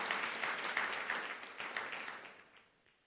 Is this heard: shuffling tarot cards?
no